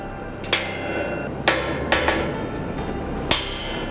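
Four or five sharp, ringing hammer blows on tower crane steel during crane climbing work, spaced irregularly, with quiet background hum between strikes.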